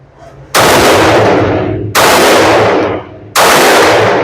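Three long, loud bursts of rapid automatic fire from a Palmetto State Armory Rock 5.7x28 pistol emptying a magazine with sticky ammo, each burst ringing out with short pauses between.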